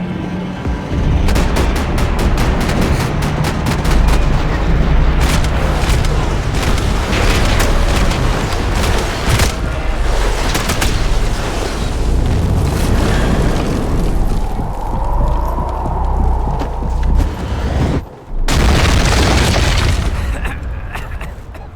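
Video game combat with dense gunfire and heavy explosions, loud, continuous bursts of shots and booming blasts layered on a rumbling low-end, one brief cut to near silence, then more blasts.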